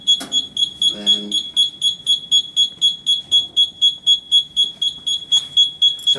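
Smoke alarm sounding during a fire pump test, a loud, steady train of sharp high-pitched beeps pulsing about three times per second throughout, with people talking briefly underneath.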